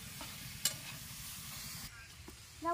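Cauliflower roast sautéing in a pan, a soft steady sizzle with a few spoon-stirring clinks and scrapes near the end, close by with no talk.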